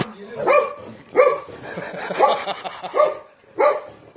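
A Golden Retriever barks repeatedly in loud, close bursts, about five barks spaced unevenly, with a person's voice mixed in between.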